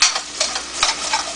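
Potatoes sautéing in a pan, with a close, steady sizzle broken by a few scraping stirs, and no voices.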